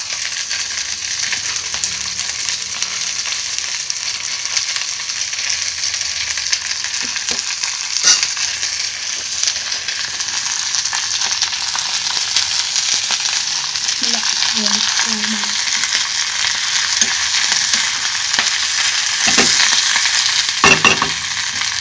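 Dried red chillies and tamarind fry in a pan for a Telugu chenagaku podi, giving a steady, close sizzle throughout with occasional stirring clatters and scrapes, and no talking.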